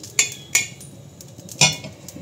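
Roasted cumin seeds are tipped from a pan into a cooking pot in a home kitchen, marked by a few sharp metallic clinks of utensil on metal with faint scraping between them, with no talking.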